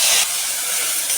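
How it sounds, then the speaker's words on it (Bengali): Prawns fry in hot oil with a loud, steady, close-up sizzle and hiss that holds throughout without pause. "তেলের মধ্যে আমি চিংড়ি মাছটা ভেজে নেব।"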